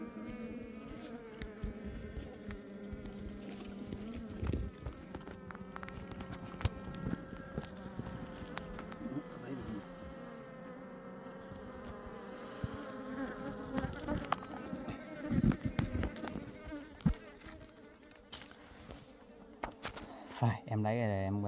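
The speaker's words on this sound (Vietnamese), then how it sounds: "Em đi tới đây thì em gặp thêm tổ ong đùi to nữa." Bees swarm around a large wild nest outdoors, a steady close insect drone with tonal hum running throughout, swelling and thinning as insects pass near, with a few sharp knocks and rustles toward the end.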